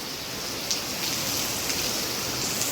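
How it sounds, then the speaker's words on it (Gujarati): Steady rain falling in a continuous even hiss close by, with a few louder drops and splashes on a surface and no voices. "અગિયાર વાગે વરસાદ પાછો થયો છે"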